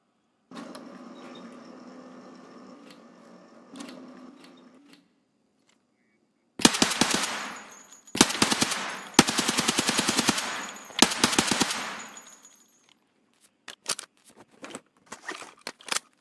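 Video game gun firing rapid automatic bursts, loud and crackling, in several separated volleys with short gaps and a few scattered single shots trailing off, preceded by quieter steady game background sound.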